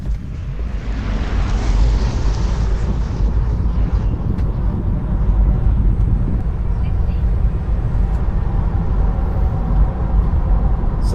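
Tesla Model 3 RWD launching hard from a standstill with the brake held, accelerating 0 to 60 mph: a rising electric motor whine and growing road and wind roar filling the cabin, steady and loud after the launch.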